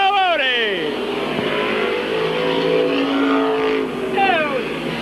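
Stock race cars at Midvale Speedway, including the 42 car, roar past with rising and falling engine whines. A loud announcer calls the race over the steady drone of the field.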